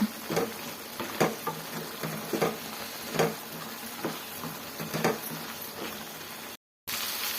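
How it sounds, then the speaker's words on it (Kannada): Spices fry and are stirred in a pan while making Karnataka-style bisi bele bath, a soft continuous sizzle broken by regular scraping strokes of a spoon, close and fairly quiet. "ನೋಡಿ ಚೆನ್ನಾಗಿ ಫ್ರೈ ಆಗಿದೆ ಇಷ್ಟು ಫ್ರೈ ಆದರೆ ಸಾಕು"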